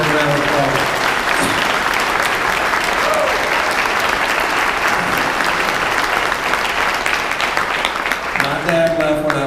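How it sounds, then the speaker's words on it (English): Sustained, loud applause fills a hometown political rally in Gainesville, a dense steady roar of many hands clapping, with a voice rising over it near the end. "Now give her a round of applause."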